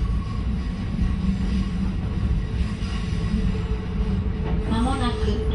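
A Shin-Keisei 8000 series electric commuter train rumbles steadily along the rails toward Chiba-Chuo, Japan, a low continuous roar with faint squealing rising briefly near the end.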